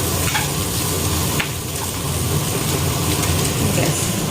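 Chicken chow mein-style noodles being stirred in a pan with a metal ladle, a steady sizzle under scraping strokes, with a couple of sharper clinks near the start and middle, close and continuous.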